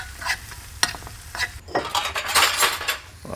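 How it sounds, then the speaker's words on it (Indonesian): Chilies and shrimp paste (terasi) stir-fried in a pan, with a utensil scraping and clinking against the metal in quick irregular strokes over a soft, continuous sizzle. "Tapi saya tambahkan terasi, kita tumis bareng."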